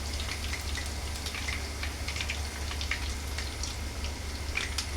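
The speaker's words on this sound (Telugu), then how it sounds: "చూడండి, మంచిగా ఫ్రై అయింది." Chicken pakodi frying in oil, a steady dense crackle with scattered sharp pops and a low constant hum, moderately close and continuous with no talk.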